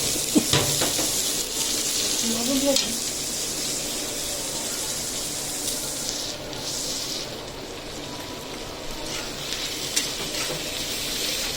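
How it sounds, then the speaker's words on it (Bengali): Broiler chicken meat fries in a pan with onions, giving a continuous sizzle and occasional stirring scrapes while a person speaks briefly over it. "এই যে মাংসগুলি ভাজা রাখছি"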